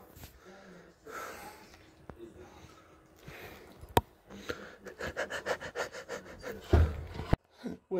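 A dog panting excitedly indoors at home, quick rhythmic breaths close by that grow louder and more insistent toward the end, with a voice talking over parts of it.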